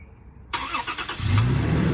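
A 2022 Toyota Tacoma TRD Off Road, remote-started with the key fob, cranks briefly and catches, its engine settling into a loud, close idle.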